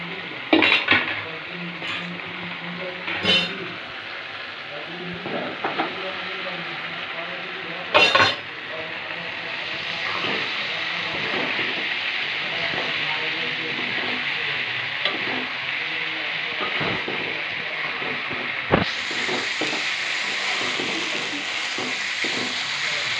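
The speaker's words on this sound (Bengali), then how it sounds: "এবার এর মধ্যে আমি বড়াগুলো দিয়ে দেবো।" Shrimp fritters dropped into frying masala in a pan, a steady sizzle running throughout, with a few sharp utensil knocks and scrapes near the start and no talking.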